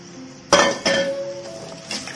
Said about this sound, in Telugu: నేను ముందుగా కట్ చేసి పెట్టుకున్న క్యారెట్ ముక్కలు వేస్తున్నాను